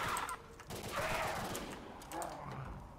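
Rapid gunfire from a custom zombies video game, bursts of shots against zombies, loud and continuous across the clip with game sounds layered in.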